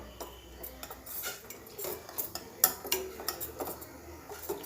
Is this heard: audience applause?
no